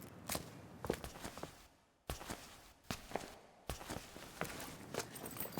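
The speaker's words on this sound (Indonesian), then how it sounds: "tiba-tiba Michael mendengar langkah kaki yang akrab sekali di telinganya" Footsteps approach at an uneven pace, several distinct taps separated by short quiet gaps, fairly close and clear.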